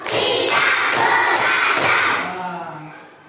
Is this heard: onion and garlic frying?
no